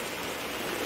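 Steady rain falls in gusty wind, a continuous broadband wash with no individual drops standing out, moderately loud and unbroken.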